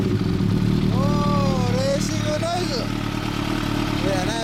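A 2012 MV Agusta F4R motorcycle fitted with a Bodis exhaust runs with a loud, steady low engine rumble throughout, while voices and whistle-like tones rise and fall above it.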